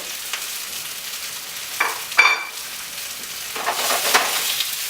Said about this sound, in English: And we get that nice sizzle.